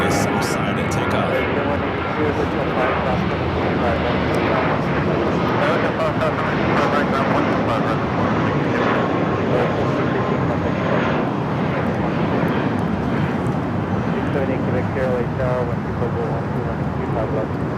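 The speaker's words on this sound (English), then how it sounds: "It's a 16-year-old A330-200. Should be a south side at takeoff." A 16-year-old Airbus A330-200 airliner wearing a 20th anniversary sticker takes off from the south side at Los Angeles International Airport, its engines a loud, steady, broadband roar that holds for the whole stretch with little change.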